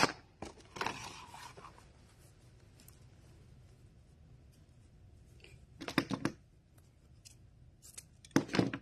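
Scissors snip ribbon for a giant poinsettia bow, a cluster of crisp cuts at the start, then a quiet pause before two more short bursts of snipping near the end.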